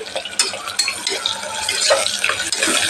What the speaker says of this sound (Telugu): ఆనియన్స్ వేసిన కొంచెం ఫ్రై చేద్దామండి